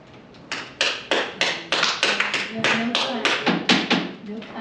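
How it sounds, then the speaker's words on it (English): Audience members clap at a city council meeting, a brief spattering of a few pairs of hands with sharp, evenly spaced claps at moderate distance, over a quiet room. "No clapping, please."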